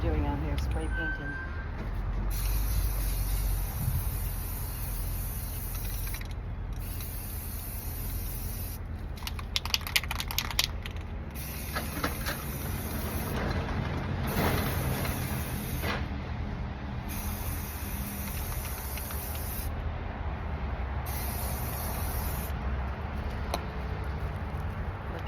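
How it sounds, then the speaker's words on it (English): Aerosol spray paint hisses in about seven sharp bursts, separated by brief pauses, as a six-foot nutcracker figure is primed outdoors. A voice can be heard speaking faintly in between. "Wondering what I'm doing out here, spray painting."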